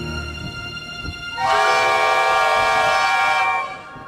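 A train engine blows a loud, sustained whistle, a single steady harmonic blast lasting about two seconds that rises above a rumbling background, then fades out.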